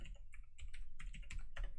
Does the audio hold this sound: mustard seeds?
no